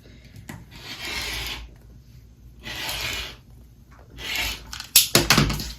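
Rotary cutter trimming the edge of quilt fabric along a ruler, three drawn-out rasping passes separated by pauses, followed by a few sharp clicks and taps, close and fairly quiet.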